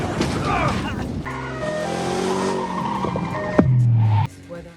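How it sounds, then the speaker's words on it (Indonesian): A prison transport car in a film scene skids with a squeal of tires, then overturns with a heavy crunching impact before the noise drops away, against a busy action-scene backdrop. "lalu mobil terguling"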